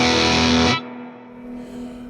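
Electric guitar through a Vox AC15C1 amp with a boost pedal engaged, a loud driven chord that cuts off abruptly, leaving a faint humming ring and low amp noise.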